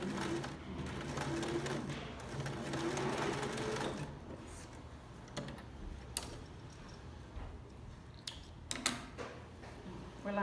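A sewing machine stitching pajama shorts, running in a steady close whirring burst, then stopping and giving way to scattered small clicks and handling ticks, with a voice speaking softly at times.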